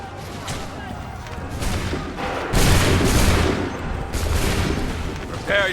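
Musket volleys in Assassin's Creed III roar out as dense crackling bursts, several heavy waves of massed gunfire in close succession, with shouted voices mixed in among the shots.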